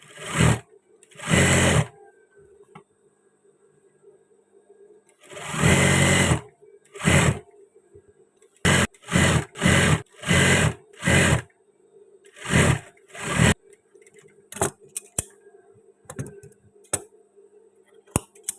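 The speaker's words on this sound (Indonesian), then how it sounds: "Nah, ini kita jahit aja" Sewing machine stitching batik fabric for a shirt, running in repeated bursts of steady whirring separated by pauses, with clicks and handling noises toward the end; close and loud.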